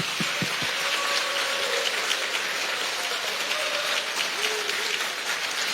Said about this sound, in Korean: 모두 수고 많으셨다는 격려의 의미와 이재명 대통령의 당선을 축하하는 마음을 담아 큰 박수 부탁드립니다.